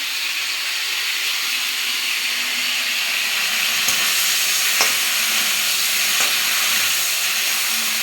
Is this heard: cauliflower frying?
yes